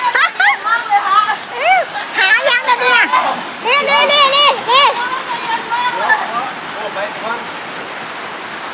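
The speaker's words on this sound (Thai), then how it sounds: "ฝนตกหนักเลยฝนตกครับฝนตกครับ" Heavy rain pours steadily at an outdoor spot where stir-fried cobra with holy basil is being cooked, a constant wash of noise beneath people talking loudly and excitedly in the foreground.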